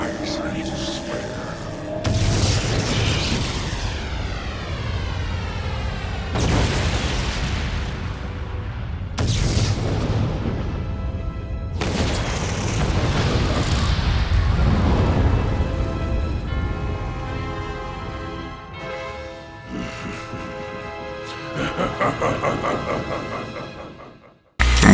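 The Eclipse Cannon fires in the Shadow the Hedgehog video game, a series of heavy, booming blasts and rumbling explosions that swell and roll one after another over a dense, dramatic game soundtrack.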